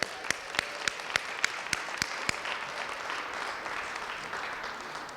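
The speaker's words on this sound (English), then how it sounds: "So let's give our kids a round of applause." Audience applause for children at a community resource event in Detroit, a spread of steady clapping with several sharp individual claps standing out at the start, fairly distant and alone without talk.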